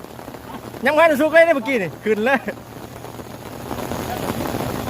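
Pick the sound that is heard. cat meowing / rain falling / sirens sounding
rain falling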